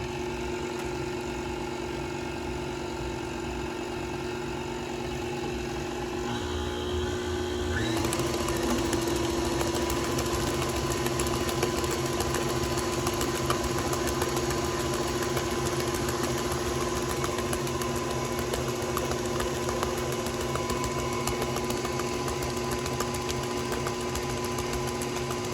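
An electric mixer beats black Christmas cake batter with eggs in a steady, droning mechanical whir. It grows louder and fuller about a third of the way in and then runs evenly at that level.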